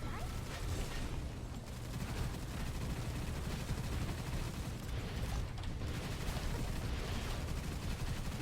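Continuous automatic gunfire from the shooter game Gunfire Reborn, a dense, unbroken roar of rapid shots held steady at low level for several seconds, with no pauses for reloading.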